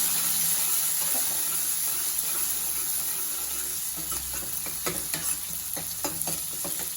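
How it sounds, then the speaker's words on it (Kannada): Onions sizzle and crackle steadily as they fry in a pan for a restaurant-style Andhra dal, with a few sharp scraping stirs near the end and no voices. "ಆಮೇಲೆ ಈರುಳ್ಳಿ ಹಾಕೊಳ್ಳಿ ಹಾಕ್ಕೊಂಡು ಫ್ರೈ ಮಾಡಿ"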